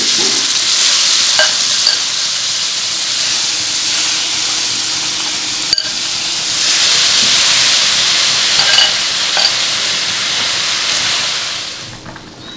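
Rice frying in a pan with ginger and garlic paste and salt for chicken tehari, a loud, continuous close sizzle and hiss with occasional stirring scrapes throughout.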